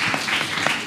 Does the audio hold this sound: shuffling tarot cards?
no